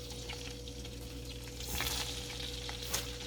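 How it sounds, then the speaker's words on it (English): Steady crackling sizzle of ogbono frying in hot oil, with soft scraping as it's stirred in the pan. "you're frying the ogbono"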